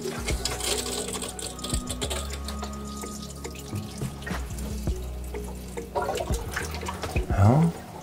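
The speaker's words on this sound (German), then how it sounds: "würdest du einmal bitte den kalten Wasserhahn aufdrehen?" Cold water runs from the tap inside a camper van, a steady hiss and splash with clattering handling noises and a rising gurgle near the end.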